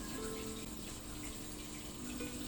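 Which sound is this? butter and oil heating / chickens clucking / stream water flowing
stream water flowing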